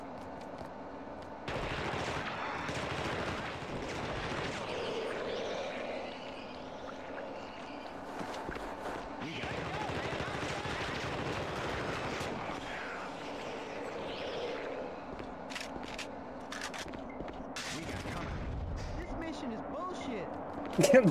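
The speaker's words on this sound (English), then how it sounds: "Stop shooting me in the ass." Bursts of gunfire from The Thing video game crackle through the scene in rapid volleys, heavy and close, mixed with game ambience and interrupted by brief pauses.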